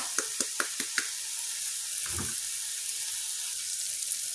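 Ginger and garlic fry in a pan as turmeric powder goes in, for a goat trotter paya. A few quick utensil taps against the pan open the clip, then a steady, close sizzle carries on alone.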